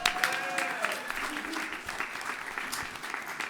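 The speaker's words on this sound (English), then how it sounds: "That's another round of applause." Audience applause at a Birmingham city council meeting honoring a nationally ranked high school basketball team: steady, moderately loud clapping that fills the room for a few seconds, with a brief tonal sound near the start.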